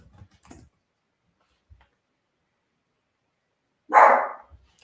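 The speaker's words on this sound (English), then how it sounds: "This is live and a barking dog in the background." A single loud, close dog bark near the end of an otherwise quiet indoor stretch, preceded by faint scattered clicks and rustles.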